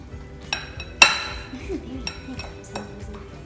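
Brownie batter being mixed with an egg in a bowl at home: clinks and scrapes of a utensil against the bowl, one sharp clink standing out, with faint voices in the background.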